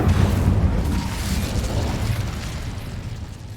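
Hogwarts Legacy Descendo and Incendio spell effects, a continuous rumbling, booming blast with crackling texture sustained throughout at steady loudness, no voices over it.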